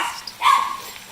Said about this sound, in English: And then she barks like a mad woman